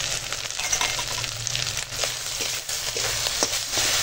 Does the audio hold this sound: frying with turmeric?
yes